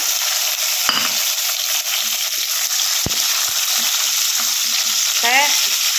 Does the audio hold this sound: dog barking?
no